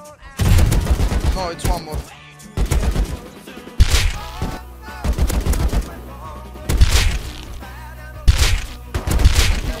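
Bursts of AK rifle fire in Rust, loud and close, coming in repeated clusters with gaps between them, while players talk excitedly between the volleys.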